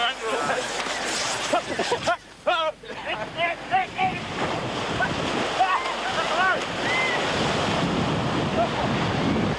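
Steady roar of ocean surf washing onto a beach, loud and continuous, with wind buffeting the microphone and excited voices calling out briefly.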